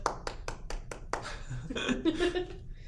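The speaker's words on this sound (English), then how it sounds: "I don't know if the mic can pick up the clapping" A single person's hands clap about six times in a steady rhythm, close and sharp, then give way to talking and soft laughter.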